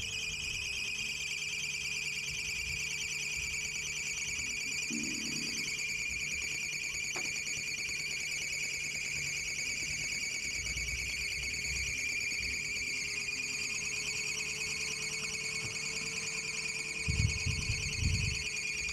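A loose fan belt on a car's alternator, fitted with a 2PK 850 belt, gives a steady, piercing high-pitched squeal. The squeal runs unbroken throughout over a low engine hum.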